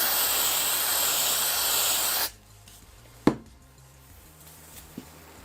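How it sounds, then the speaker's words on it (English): A steady, loud hiss of compressed air sprays from a cheap air duster can held upside down for about two seconds, then cuts off, leaving quiet with a couple of small clicks. "buy one of these cheap air duster cans, hold it upside down, and if you spray"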